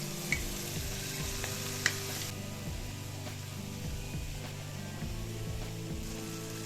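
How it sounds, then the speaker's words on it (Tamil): Paal paniyaram batter dropped in small spoonfuls into hot oil, giving a steady close sizzle and bubbling fry throughout, with a couple of faint clicks and no speech. "இப்போ நம்ம மிக்ஸ் பண்ணி வச்சுருக்க மாவை எடுத்து சூடான எண்ணெயில் கொஞ்சம் கொஞ்சமாக சின்ன சின்னதாக போண்டாவாக போட வேண்டியது."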